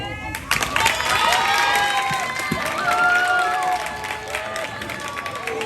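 Pupils and audience at a school presentation in Sangoyah clap and cheer together in a lively burst with excited voices, sustained for several seconds before easing slightly.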